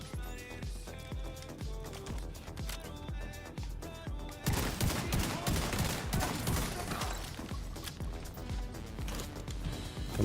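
Weapon fire in the video game The Division 2 from a gun that hits like a bolt gun, steady repeated shots under loud game music and effects, growing denser partway through.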